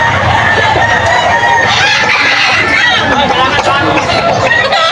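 Roosters crow repeatedly over a dense, noisy background of many birds and crowd chatter at a gamefowl market, several calls overlapping at close to moderate distance.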